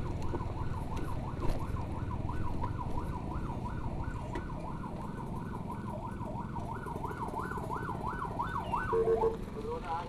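An ambulance siren wails in a steady rising-and-falling cycle throughout while escorting a patient on a street, loud and continuous over traffic rumble, breaking off near the end.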